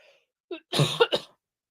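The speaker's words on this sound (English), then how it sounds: "Sorry to keep coughing, guys." A few short, harsh coughs close by, clustered in a quick burst after a faint breath, then silence.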